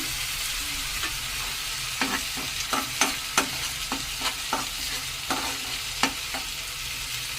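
Onions frying in a pan with salt and turmeric give a steady soft sizzle, broken by a series of sharp scraping stirs at irregular intervals, close and moderately quiet with no talking.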